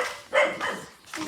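Dog barking in short sharp bursts, a few distinct barks spaced unevenly, moderately close with no talk over them.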